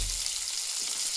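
Green chillies and onions frying in tempering oil for a ridge gourd and moong dal dish, a short continuous bright hiss of oil sizzling steadily, close and alone.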